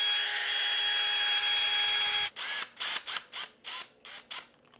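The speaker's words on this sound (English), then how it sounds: "You can use your drill to expand or contract" A cordless power drill spins in several short, separated bursts while adjusting an expandable ceiling fan brace, close and loud after a steady high whine, with no talking.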